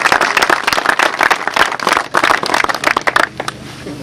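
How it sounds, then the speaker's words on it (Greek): An audience at a Trikala kennel club dog show gives the club president a round of applause: dense, close clapping from many hands that holds for several seconds, then thins and fades at the end. "Ένα χειροκρότημα για τον πρόεδρο."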